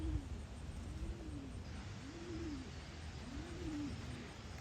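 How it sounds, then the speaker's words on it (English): A feral pigeon coos in a low, repeated rhythm, about four soft rising-and-falling calls spaced evenly over a steady background hiss of wind or outdoor noise. "That's just a feral pigeon."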